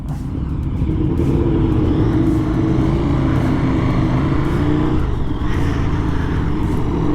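A KTM Super Duke R motorcycle fitted with an SE Project GP22 exhaust, riding along the Pacific Coast Highway, its engine a loud, steady gargling drone under wind rush with slight rises in revs.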